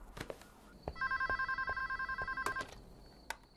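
A telephone rings on an outgoing call, a steady warbling electronic trill repeating rapidly for about two seconds at moderate volume, framed by a few soft clicks and handling noises.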